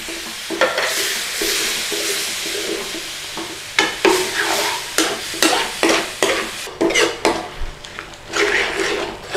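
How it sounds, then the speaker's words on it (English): Canned tomatoes being stirred into a hot pan of chicken rogan josh, a loud close sizzle broken by repeated scraping spoon strokes against the pan bottom in an irregular rhythm. "In with our canned tomatoes."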